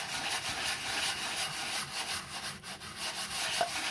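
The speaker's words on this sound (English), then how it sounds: "So I'm going to finish my sanding and then I will be right back." Sanding on a mini junk journal cover gives a close, steady rhythmic rubbing, repeated back-and-forth strokes of abrasive against the coated cover.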